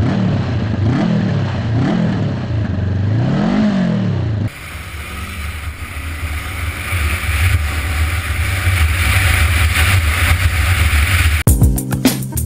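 A 2021 Honda CB500X motorcycle engine revs in rising and falling swells, then settles into a steady run with a low throbbing note, ending with a brief sharp disturbance.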